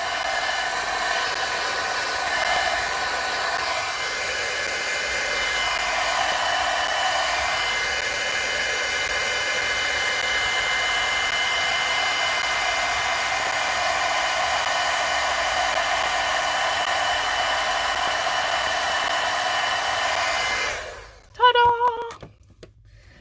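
A heat tool blows steadily and loudly, close and unbroken for about twenty seconds, melting embossing powder on a hand-painted Christmas card, then cuts off abruptly with a brief clatter at the end.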